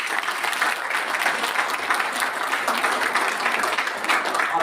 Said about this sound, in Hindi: जोरदार ताली आप सभी के लिए।